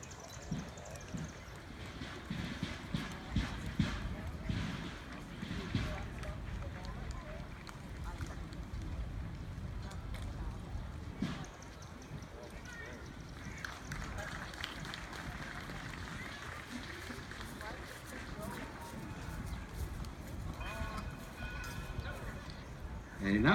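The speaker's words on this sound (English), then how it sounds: "And here we go with Tim riding Joey." Horses ridden at a Civil War reenactment, hooves thudding in a steady running rhythm against heavy wind noise on the microphone, with people talking throughout.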